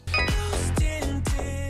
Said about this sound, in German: Das ist das Handy vom putzigen Mark. Und das hat am 30. März geklingelt